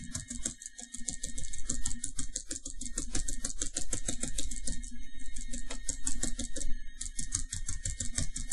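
Rapid, steady clicking of keys on a computer keyboard, continuous and close, with a faint low hum underneath and no talking.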